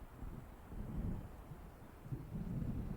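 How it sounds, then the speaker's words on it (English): Low rumbling thunder from an approaching storm in the video game Alan Wake, faint and distant, rolling in slow swells over a wind-like background with no voices. "It seems there's a storm coming."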